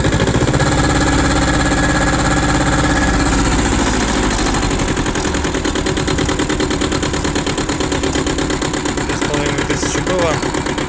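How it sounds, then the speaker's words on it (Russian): A Yanmar YM1300 2WD tractor with a two-cylinder engine and rotary tiller idles steadily at close range, a continuous loud chugging drone that stays even throughout. "Двухцилиндровый мотор Yanmar."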